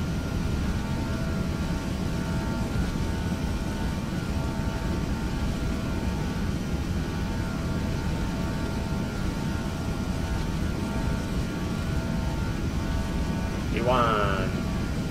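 Airbus airliner engines in the Prepar3d flight simulator, a Frontier Airlines A320-family jet rolling for takeoff, give a steady, loud broadband roar with faint tonal whine throughout, and a brief chirp near the end.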